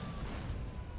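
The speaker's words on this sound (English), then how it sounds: "Got RPGs flying at us from every direction." RPG explosions rumble in GTA San Andreas during a city firefight, a dense low booming roar that stays continuous and fairly faint for a brief moment.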